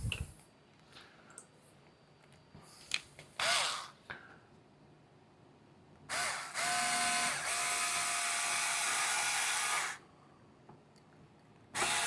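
A screw is driven into a Losi 5ive-B RC car: scattered close clicks and short mechanical bursts, then a sustained tool whir lasting about four seconds before stopping.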